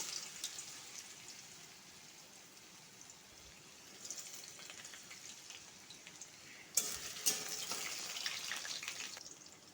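Long potato strips and cumin going into hot oil, a faint steady frying hiss that swells with a brief louder crackle midway, no voices.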